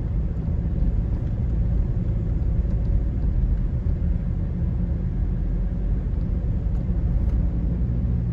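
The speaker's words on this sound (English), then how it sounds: "were stuck behind a garbage truck." A garbage truck ahead of a car on a road in Red Hills, St. Andrew, Jamaica, gives a constant low engine rumble with road noise, steady and unbroken throughout, with no talk.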